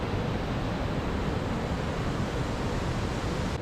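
Waterfall in southern Laos flows through a gorge, a dense, unbroken roar of rushing water that stays loud and even throughout.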